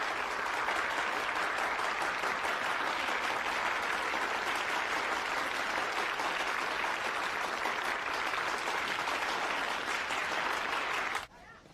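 A large audience applauds the winning team of a debate tournament, dense, steady clapping holding at an even loudness for about eleven seconds before cutting off abruptly.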